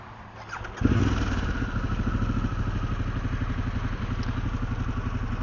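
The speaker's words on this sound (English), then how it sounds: "Let's fire it up." A Harley-Davidson Pan America motorcycle engine cranks over and catches about a second in, then settles into a loud, steady, rumbling idle with a rapid pulsing beat close by.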